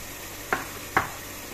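Spices stirred in a pan for eel fish curry: two short scraping strokes of a spoon against the pan over a faint, steady sizzle, close and alone.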